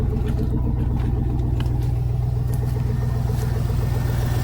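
5.3 LS engine in a truck, newly swapped, running at a steady low idle with a continuous deep rumble and regular firing pulses, close and loud, with no clear revving.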